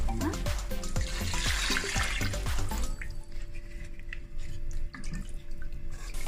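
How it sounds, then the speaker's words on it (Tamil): Water poured into a pan of masala mixture for tomato rice, a steady splashing gush for about three seconds that then eases into quieter trickles and faint drips. "2 கப் அரிசிக்கு 3 கப் தண்ணி எடுத்துட்டு இதில் ஆட் பண்ணிக்கோங்க."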